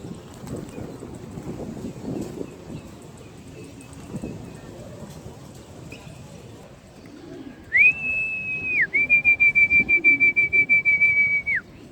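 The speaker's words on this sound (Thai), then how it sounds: "ลมแรงฟ้าครึ้ม" Strong wind under an overcast sky in front of a pigeon loft, low buffeting gusts rumbling on the microphone, followed near the end by a sharp repeated high whistle in quick pulses.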